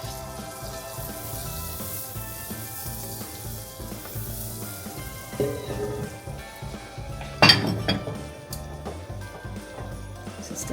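Butter melting in a frying pan for sweet potato pancakes sizzles steadily up close, with a few clinks of utensils against the pan.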